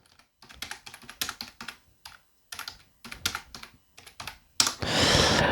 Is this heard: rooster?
no